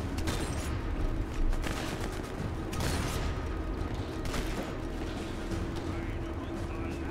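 Gunfire rattles through a firefight in the Sniper Elite 4 video game, with repeated sharp shots and mechanical clatter over a dense, steady background din, while a player talks over the action.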